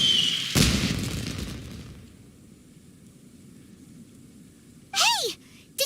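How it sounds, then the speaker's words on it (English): A loud boom of fireworks going off in a video game quest for a Chinese New Year event, followed by faint crackle and a few rising whistling effects near the end. No one speaks. "Did you hear that explosion? Maybe it was fireworks."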